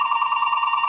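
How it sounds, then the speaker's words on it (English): A telephone rings with an incoming call on a live sports-scoreboard show's hotline: a steady, bright electronic ring with a fast pulsing warble, heard alone and fairly loud throughout. "We got a phone call coming in."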